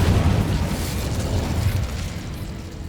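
A fire spell cast with a wand in the Harry Potter game Hogwarts Legacy sets off a loud, continuous rumbling whoosh of flames and blasting that holds steady for about three seconds, with no talking over it.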